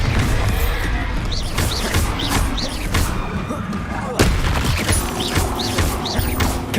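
Bombarda spell blasts in Hogwarts Legacy combat: a dense run of heavy booming impacts and crashes, loud and close, with a voice running through the mix.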